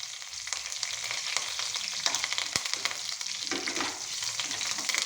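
Malabar nut (basak) leaves sizzle and crackle as they fry in hot oil, with a steady hiss and scattered sharp pops while they are stirred, close by and on their own with no talk.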